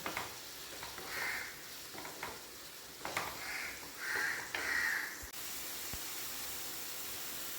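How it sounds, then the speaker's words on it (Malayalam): Three chopped medium onions sautéing in a pan for a paper chicken dish: soft hissing sizzle with several louder bursts as the onions are stirred, then a steadier low sizzle. "ഇനി നമുക്ക് ചെറുതായി കട്ട് ചെയ്ത സവാള ചേർത്ത് വെക്കാം ഇത് മൂന്ന് സവാള ഞാൻ കട്ട് ചെയ്തതാണ് മീഡിയം സൈസ് നന്നായി നമുക്ക് വഴറ്റിയെടുക്കാം"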